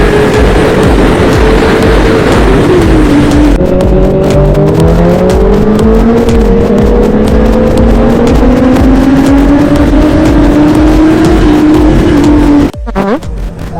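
A powerful superbike engine roars close by, its pitch rising and falling through revs for most of the stretch before cutting out abruptly near the end.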